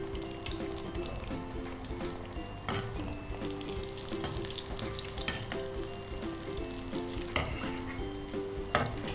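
Potato aloo bonda fry in hot oil with a steady, close sizzle and bubbling, broken now and then by the clink and scrape of stirring.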